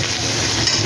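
Sprouted raw chickpeas and ginger paste sautéing in a pan give a brief, loud, steady sizzle with stirring noise.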